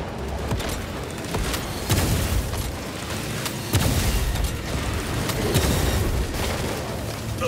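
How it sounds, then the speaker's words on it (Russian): A frag grenade goes off in Warhammer 40,000: Space Marine 2 amid a steady din of combat, with several heavy booms landing at intervals over continuous low rumble and crackle. "Бросаю осколочную."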